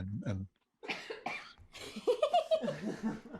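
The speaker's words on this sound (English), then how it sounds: "Well, I'm coughing as well." A quick burst of coughing opens, followed after a short pause by someone speaking and laughing over it.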